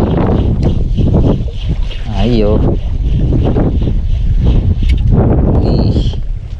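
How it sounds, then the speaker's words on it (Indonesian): Strong wind at sea during a fishing trip, a constant roaring rush of gusts buffeting the microphone, loud and close, with a man calling out briefly over it. "Anginnya kencang."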